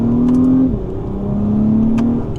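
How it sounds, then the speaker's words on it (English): A 2024 Acura TLX Type S revs in second gear in Sport Plus mode, with a loud, close exhaust note that holds, dips briefly at a shift, then climbs again, heard from inside the car without talking. "The exhaust sounds really, really good in the top end in Sport Plus."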